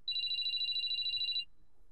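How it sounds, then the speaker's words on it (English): A mobile phone rings in Sweet Fuse: At Your Side, a bright, rapid trilling electronic ring lasting about a second and a half, loud and alone before it stops. "We continued our search for Urabe in silence until Shidou's phone rang."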